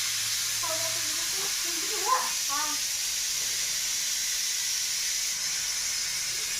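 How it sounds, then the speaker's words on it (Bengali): A pressure cooker boiling eggs and potatoes gives off a steady, even steam hiss that runs the whole time at moderate level, with faint background chatter briefly in the first half. "এখানে ডিম আলু সেদ্ধ চাপিয়েছি কুকারে।"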